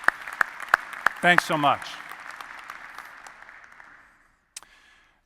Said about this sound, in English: I'd just like to give a round of applause to all those many OTA members who've contributed